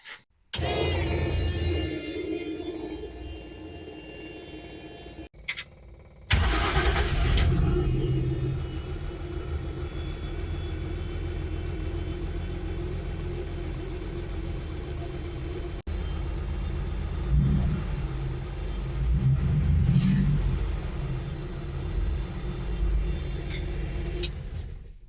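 A Jaguar V6 transplanted into an MGB, running on a custom wiring loom and Emerald ECU, cranks, catches and settles into a steady, untuned rumbling idle, loud and close, with a brief cut near the start.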